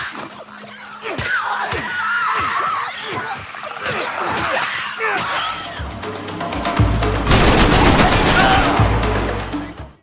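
Gunfire from the Max Payne 3 video game bursts out in loud, rapid volleys of shots and crashes, building into a dense barrage of automatic fire, with voices and shouts mixed in.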